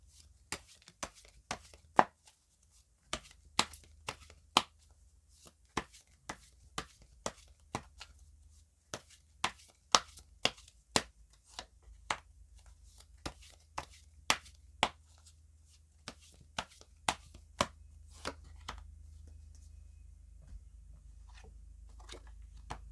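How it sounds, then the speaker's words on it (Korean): Tarot cards being shuffled and drawn by hand, a series of crisp close card snaps and slaps at an irregular rhythm over a quiet background. "추가 카드를 뽑아보도록 할게요."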